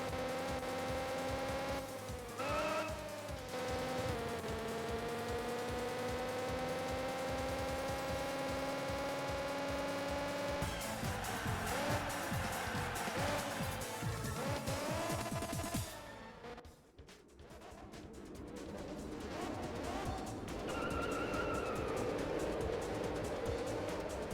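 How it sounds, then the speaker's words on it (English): A Honda's engine in the GT Cube racing game drones as a steady, buzzy synthesized tone with a constant loud hum, shifting pitch as gears change and briefly dipping midway before resuming. "do you think Honda would sign off on their car sounding like this in the game?"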